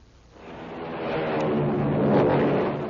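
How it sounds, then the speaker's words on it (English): An American Airlines flagship airliner takes off in a vintage radio sound effect. A broad engine roar swells steadily over a few seconds and stays loud, with no speech over it. "It's the sound of a mighty American Airlines flagship taking off."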